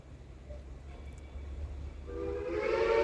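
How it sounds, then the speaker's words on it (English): Steam locomotive moving behind a building, a low rumbling train noise that swells in the final second as a whistle-like tone rises above it, moderately distant, with no talking. "There's the smoke coming up from behind the building from the train."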